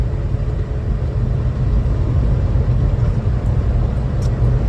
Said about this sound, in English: we're climbing handily up this hill, and now we're going to go into fifth gear